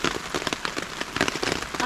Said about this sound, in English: Kind of feels like the rain has just picked up a notch.